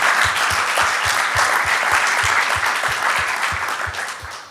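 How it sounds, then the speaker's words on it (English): Audience applause closing the BE-AM 2019 conference, a dense, steady wash of many hands clapping close by, with soft regular low thumps underneath, sustained and tapering off toward the end. "Applause."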